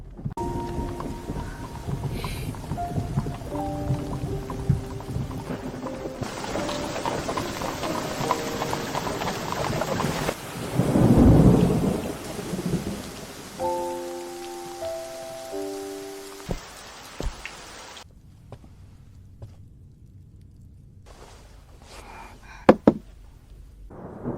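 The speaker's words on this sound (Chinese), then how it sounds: "今夜暴雨突至" Rain falls amid shifting musical tones, and a deep rumble of thunder swells briefly in the middle before fading away.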